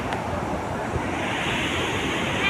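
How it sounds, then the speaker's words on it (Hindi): Water pours over the Kalani dam in a continuous, loud, close roar of rushing flow, steady throughout with no voices. "ये है बांध और पूरा पानी ऐसे जा रहा है"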